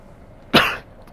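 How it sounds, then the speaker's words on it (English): One short, sharp burst of a sneeze, loud and close, alone against a quiet room background. "Excuse me, had to sneeze."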